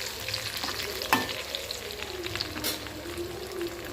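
Sweet potato chips fry in hot oil, a close, continuous sizzle and crackle with a brief sharper clatter early on and no talking.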